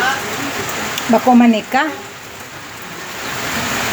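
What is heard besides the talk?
rain falling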